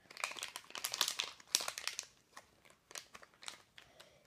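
A foil packet of Gogo's Crazy Bones collectible figures being torn open, with close, busy crinkling and crackling in bursts that thin out toward the end and no talking.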